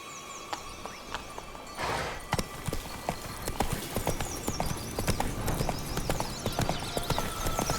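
Steady clip-clop of Roach the horse trotting in The Witcher 3, rhythmic hoofbeats up close with an outdoor ambience and a brief rustle early on.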